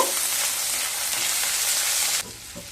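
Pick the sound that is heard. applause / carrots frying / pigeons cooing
carrots frying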